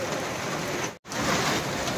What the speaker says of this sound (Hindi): ये तो बिन मौसम बरसात हो गई गाइस, ये ठंड के मौसम में बरसात।